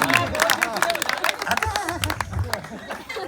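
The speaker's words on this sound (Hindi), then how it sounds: "जोरदार तालियां बजाओ हस्बैंडो" Audience applause at a comedy poetry show, dense clapping from a crowd with cheering and voices mixed in, loud and continuous throughout.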